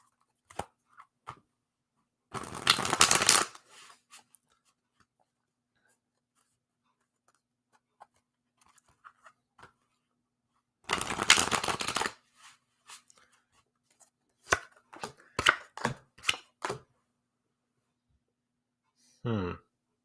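Tarot cards shuffled for a three-card reading, two dense bursts of riffling a few seconds each, separated by quiet, followed by soft card taps and handling sounds, close and fairly quiet, with no talking.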